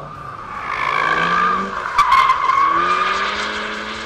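Alpine A110S sports car on a race track, tyres squealing in a sustained skid with a sharper burst midway, loud and close over the engine note, no talk.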